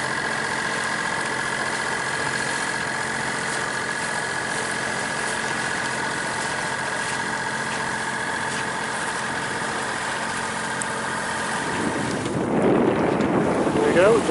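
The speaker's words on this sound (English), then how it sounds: "It's about 13-14 knots of wind at the moment" Wind of about 13 to 14 knots blowing while a sailboat heads out into the bay, a steady rushing roar with a low engine-like drone beneath, growing rougher and louder near the end.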